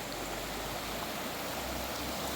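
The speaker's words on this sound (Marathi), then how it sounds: "पाण्याचा झोत बघा इकडे" Water rushes in a steady jet through a village stream in Ratnagiri, Konkan, a constant broadband hiss and splash with no pauses and no talking.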